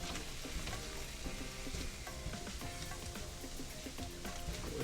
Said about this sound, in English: So we're just going to cook this for a little bit.